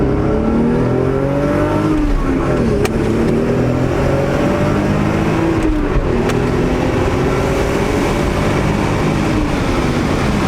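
A factory twin-turbo six-speed Toyota Supra engine revs hard in second gear and climbs steadily in pitch, dipping briefly at a gear change before pulling again, loud and close throughout.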